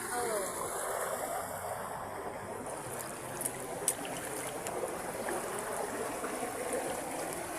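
Water flows in a steady, even rush at a shoreline spot where oysters are gathered. It is continuous and moderately close, and faint voices can be heard now and then.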